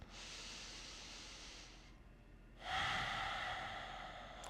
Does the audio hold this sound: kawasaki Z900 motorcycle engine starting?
no